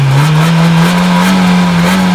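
A car engine with stock exhaust idles with a steady low hum, revving slightly and holding a continuous exhaust drone throughout, close and loud.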